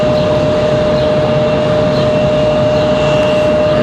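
A Southwest Boeing 737 MAX 8 airliner arrives at Raleigh-Durham International, a steady, loud jet roar with a thin whining tone that holds throughout.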